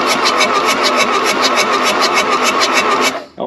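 A badly wrecked car's engine cranks and runs, a loud, close, steady pulsing mechanical roar with rapid regular beats that cuts off abruptly near the end, followed by a brief rattle.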